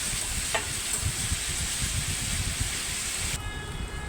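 Hot water poured into spice paste in a steel wok with brinjal and peanuts sets off a loud, dense, steady sizzling hiss that eases slightly toward the end.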